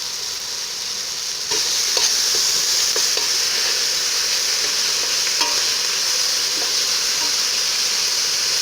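Ginger garlic paste spits and sizzles in hot oil over onions and curry leaves for a lamb lung curry, a loud continuous frying hiss that swells as it goes in, with scattered spoon scrapes from stirring.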